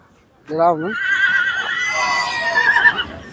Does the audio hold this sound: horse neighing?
yes